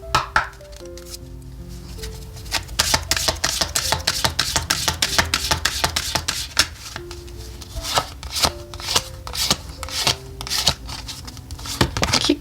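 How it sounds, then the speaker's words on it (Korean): Lenormand tarot cards being shuffled and drawn at close range, a long run of rapid crisp flicks and snaps with brief pauses, while soft musical tones play quietly underneath. "키카드 먼저 뽑고 한번 나머지 카드도 뽑아볼게요."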